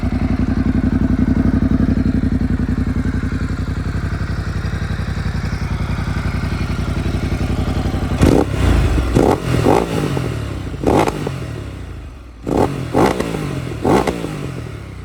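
A 2015 Ducati Multistrada 1200 S with a titanium exhaust idles with a deep, steady exhaust rumble, then blips its throttle several times in sharp, loud revs close by.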